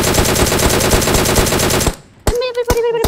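Rapid automatic gunfire from a shooting video game, a dense, loud burst of steady repeated shots lasting nearly two seconds, then a brief lull followed by a few separate sharp single shots.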